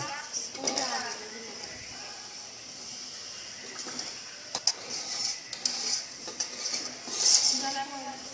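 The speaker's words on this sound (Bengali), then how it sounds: "আমরা পেঁয়াজগুলোকে তেলে ভাজতে থাকবো যত পর্যন্ত ব্রাউন কালার না হবে" Onions frying in oil in a pan with cardamom hiss softly, with a steady faint sizzle punctuated by light clinks of a utensil against the pan.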